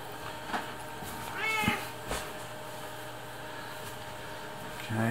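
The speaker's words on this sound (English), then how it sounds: "we've got a bit of a commentary here from the cat at the moment" A cat meows indoors while a computer is being assembled. A few clear, drawn-out meows rise over a steady background hum, close to the microphone.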